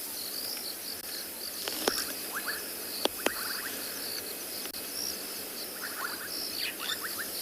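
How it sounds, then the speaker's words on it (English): Bubbling kassina frogs call at dusk on a still, windless evening, their short bubbly notes repeating faintly in loose clusters against a steady chorus of insects, with a few sharp clicks. "Just frogs. Mainly the bubbling casina that I can hear."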